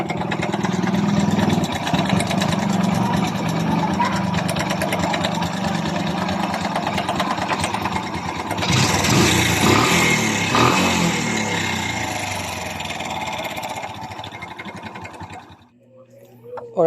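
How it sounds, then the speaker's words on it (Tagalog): A Kawasaki Bajaj CT 100 motorcycle engine, with a worn timing chain awaiting replacement, runs steadily up close with a busy, clattering mechanical rattle, briefly revving louder midway before dropping off near the end. "parinig ko sa inyo guys ang tunog ng kanyang makina nang hindi pa siya natin"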